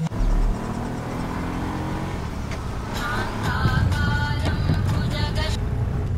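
A car engine runs steadily and close by, a low continuous rumble that grows slightly louder and busier partway through, with voices and other roadside noise mixed over it.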